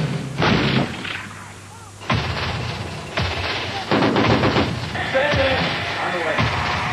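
An M1A1 Abrams tank fires its main gun during training in Central California, heavy booming blasts and rumbling reports repeating across the clip amid battlefield noise, with a voice briefly shouting.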